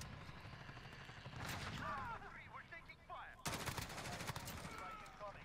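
M4A1 rifle fire in the Modern Warfare video game, bursts of rapid automatic shots with sharp loud cracks and some chaotic game noise around them.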